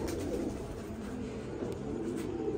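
Pigeons of an English cross breed, the young of a long-flying bird, coo softly and continuously in a loft, a steady low murmur filling the whole stretch with no voices.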